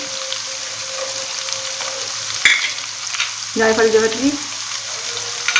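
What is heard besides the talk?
spices being roasted in oil for chana pulao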